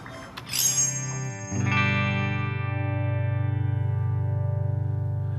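A bright electric guitar strum on an Epiphone's Seymour Duncan Alnico II Pro bridge pickup rings out, then a low sustained chord holds and slowly decays through a Marshall amp with a touch of reverb.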